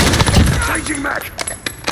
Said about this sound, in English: Changing mag.